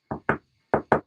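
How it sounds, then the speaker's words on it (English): Knocks in a room during a Halloween night haunted objects investigation: four sharp, close raps in two quick pairs, hollow and woody, with silence between them. "That was a knock. That was in the room."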